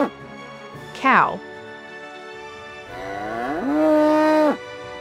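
Cattle mooing in two drawn-out calls: a short rising-falling bellow near the start, then a longer, louder sustained moo in the second half, clear and close with a quiet gap between.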